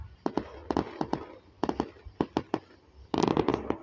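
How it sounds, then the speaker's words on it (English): Fireworks at a firework show go off as a string of sharp, separate bangs in an irregular rhythm, ending in a dense, crackling burst of overlapping explosions at moderate distance. "that's a lot of fireworks"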